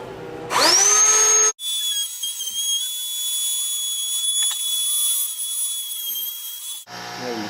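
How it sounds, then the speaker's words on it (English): A Ryobi rotary tool trims a Saiga 12 shotgun fore end, spinning up with a rising whine, then running as a steady high-pitched grind before cutting into the material again at the end. "get my Dremel, or in this case the Ryobi,"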